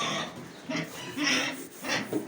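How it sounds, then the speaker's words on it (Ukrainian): Two pigs being raised on a rural smallholding make soft, close grunts in a few short bursts, with quiet gaps between them. "Оце дві свинки, ви бачите"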